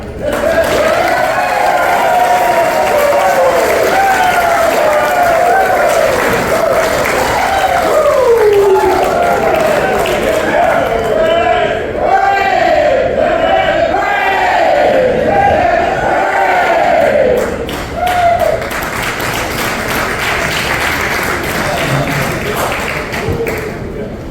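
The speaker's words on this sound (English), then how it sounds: "Big round of applause, man" Hall of fame induction audience applauding and cheering steadily for over twenty seconds, dense clapping with shouts and whoops rising and falling, close and loud.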